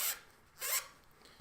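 Sandpaper rasps by hand against tiny wooden board game pegs in a few short, separate strokes with quiet pauses between them, close and soft.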